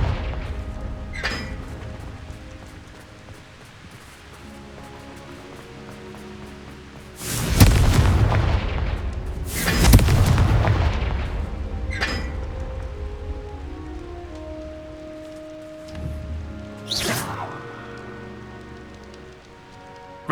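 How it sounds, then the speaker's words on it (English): Confringo fire-spell blasts in Hogwarts Legacy: two loud, booming bursts close together over a soft rain-like ambient bed, followed by a sharper crack a few seconds later. "Confringo!"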